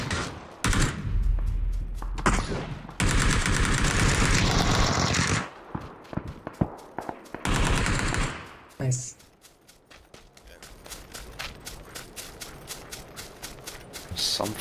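Bursts of gunfire from the video game PUBG crackle in rapid volleys, loud at first, then thin and distant shots pop sporadically in the later stretch.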